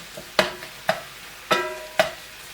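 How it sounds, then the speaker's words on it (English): Beef mince browning in a pan for American chilli, with four sharp scrapes or stirs spaced about half a second apart, each over a faint sizzle. "now I'm just going to brown this meat"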